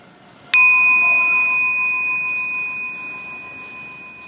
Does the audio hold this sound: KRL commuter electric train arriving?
no